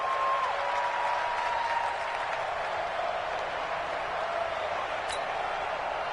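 Home stadium crowd noise in an American football video game between the Buccaneers and Cowboys, a dense continuous roar of cheering and applause holding steady throughout, with a brief whistle-like tone early on.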